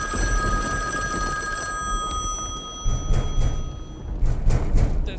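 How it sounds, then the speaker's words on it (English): A telephone rings in the Krusty Krab video game, a bright electronic trill that repeats for a few seconds, then thumps and game noises take over. "So what is the ringing phone?"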